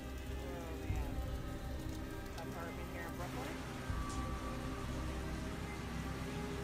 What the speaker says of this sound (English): Up to 20 centimeters of rain fell in some parts of the city.